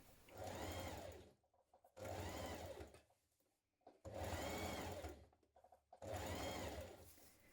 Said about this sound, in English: We're now going to stitch this in place, stretching on it a little as you do so